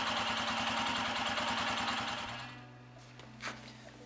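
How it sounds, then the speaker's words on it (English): A Royal Enfield Himalayan motorcycle engine idles while warming up, a close, rapid, even single-cylinder thumping that cuts off partway, leaving a low steady hum and a faint click. "You're going to want to start your engine, just let it warm up 5-10 minutes."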